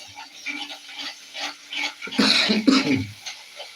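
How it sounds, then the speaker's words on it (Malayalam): Several harsh coughs and throat-clearing bursts come from a cook making mackerel curry with small onions in a clay pot. The first bark is quieter, then a loud, closer cluster of coughs follows near the end. "ചുമ"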